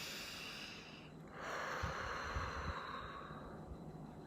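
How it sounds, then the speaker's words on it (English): Slow, deep breath drawn in and let out during a guided letting-go meditation session, soft and close with a faint airy hiss and no talk. "And breathe."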